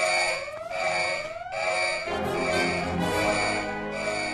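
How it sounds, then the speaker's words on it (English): A cartoon alarm rings loudly and steadily with rising siren-like sweeps over a continuous shrill tone, filling the whole stretch without any voices. "It sounds like an alarm."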